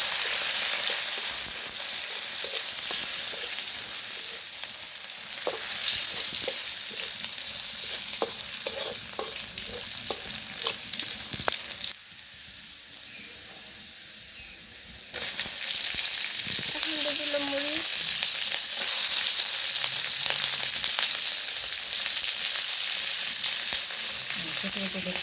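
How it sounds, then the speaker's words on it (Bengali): Chopped garlic fries in oil with cardamom, cinnamon and bay leaves, giving a steady close sizzle and repeated stirring scrapes, with a brief quieter lull partway through. "এই যে রসুন লাল লাল করে ভেজে নিয়েছে।"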